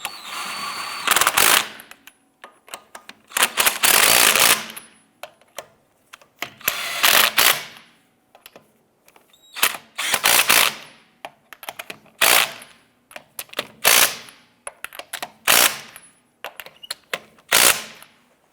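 Lug nuts being run down and snugged on a 2011-2019 Ford Fiesta wheel, heard as about a dozen loud, separate bursts of an impact-style tool in an uneven rhythm, each lasting a second or so, with no talking.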